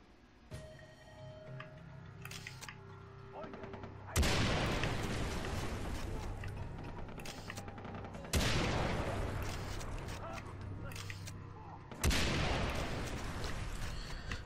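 Gunfire in Far Cry 3 erupts in three loud, dense bursts, each sharp onset trailing into a sustained crackling roar, with quieter gameplay ambience between them.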